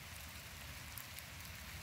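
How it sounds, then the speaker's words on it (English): Steady outdoor rain falls in a continuous, even hiss with a low rumble underneath, fairly close and with no voices. "It is actually raining now."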